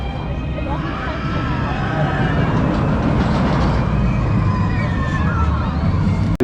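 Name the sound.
roller coaster train running on track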